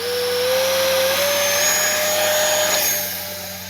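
Steady high-pitched whine and roar of a 50mm electric ducted fan in an Arrows T-33 RC jet held near half throttle, loud and continuous with a slowly rising tone, easing off slightly at the end.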